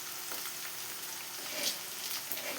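Onions, green chillies and peanuts frying together in a pan for uggani, a soft, steady hiss and crackle of oil, close but quiet, with faint scraping of stirring.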